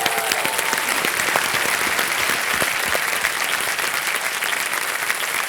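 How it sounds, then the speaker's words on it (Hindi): A Kaun Banega Crorepati studio audience claps loudly and continuously, a dense, even wash of applause with no talk over it. "एक बार जोरदार तालियां हो जाए इनके लिए."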